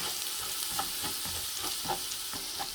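Coriander powder, garam masala and turmeric roast in a pan for fish biryani, a steady close sizzle broken by rhythmic stirring scrapes, with no talking.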